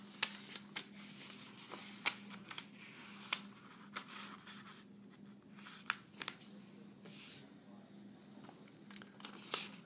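Paper is folded and creased by hand while making an origami frog, with quiet rustling and sharp crinkles scattered under a soft steady background at low volume.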